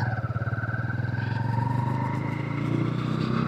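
A 2025 Honda CB125 Hornet 125cc motorcycle engine hums steadily while riding, a low throbbing drone with a faint rise in pitch, close and continuous throughout.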